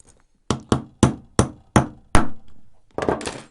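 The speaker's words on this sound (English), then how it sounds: "We're going to use a little punch, and so you're going to need some sort of pin and obviously just a hammer. So we're going to knock that out." A hammer strikes a punch to knock the pin out of a broken Mazda flip key, giving about eight sharp, close metallic taps in an uneven rhythm, with a quick double tap near the end and no talking.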